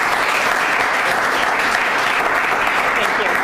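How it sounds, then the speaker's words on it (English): An audience at a live event gives a steady round of applause, a dense, even wash of clapping that fills the whole stretch without pause. "So let's give them a round of applause."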